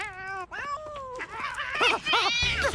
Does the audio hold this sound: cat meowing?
yes